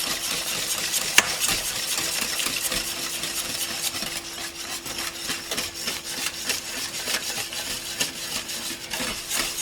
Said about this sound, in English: Whisk it all nicely in.